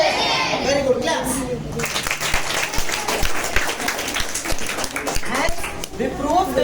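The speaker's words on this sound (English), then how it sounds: "Very good. Claps." Students in a school classroom break into a burst of clapping after a food-components experiment on egg-white protein, the applause dense and close at first, then thinning into scattered claps as a voice talks over it.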